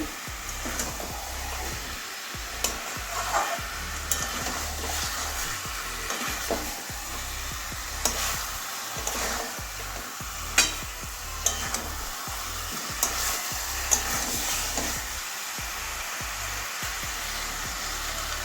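Chicken stirred into spice masala in a pan of sesame oil, a constant frying hiss cut by frequent scraping and knocking strokes of a spoon against the pan, close and with no talk.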